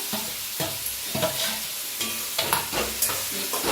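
A spoon stirs and mixes roasted eggplant with ground coriander in a sizzling pan, a close, steady scraping and frying hiss broken by repeated scrapes and clacks, with no talk.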